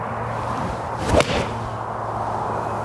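A single sharp, soft-edged, unclicky strike around the middle as a golf iron meets the ball, followed by a brief swish over steady background noise.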